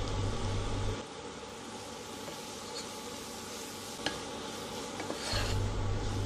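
Turmeric and coriander powders fry in a pan for crab masala roast. The steady, even hiss is broken by a few light scraping clicks from stirring, and a low hum sits at the start and end.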